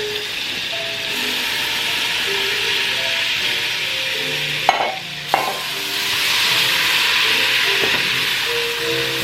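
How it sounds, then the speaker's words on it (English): Three tablespoons of garlic sizzle and fry in a pan with a constant hiss, broken about halfway by a couple of sharp clatters and a brief dip as it is stirred. "we're going to put in our garlic. 3 tablespoons garlic."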